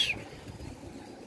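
Soft, low cooing of pigeons in a loft, a faint murmur close by, with no talk.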